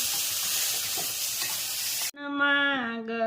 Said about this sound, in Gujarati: સરસ મજાનો ટીંડોરાનો વઘાર થઈ ગયો છે